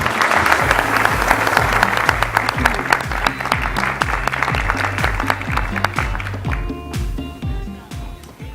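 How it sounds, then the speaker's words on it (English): Loud audience applause with dense, sustained clapping from a crowd at a credit union conference presentation, tapering off toward the end. "Let's hear it for Hayley."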